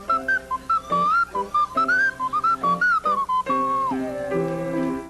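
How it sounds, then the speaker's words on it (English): A slide whistle plays a bouncy melody of short gliding notes, ending in a long downward swoop, over a light musical accompaniment. "you need a ridiculous amount of ear training to properly match pitch on your slide whistle solo"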